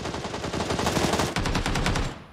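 Rapid automatic gunfire in a squad-based shooter game rattles off in a dense, close burst lasting about two seconds, with individual shots distinct toward the end.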